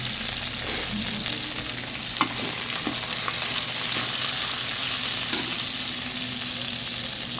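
Masala for a drumstick kara kuzhambu sautés in a pan with a continuous loud sizzle and crackle, broken by a few scraping stirs and light utensil knocks, with no talking.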